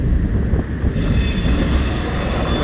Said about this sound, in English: we're coming through here on the Caboose ride. This is an open caboose.